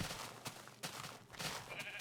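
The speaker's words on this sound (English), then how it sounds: "sheep" Repeated Minecraft sheep bleats, several short cries spread across the moment, fairly close over a busy game background.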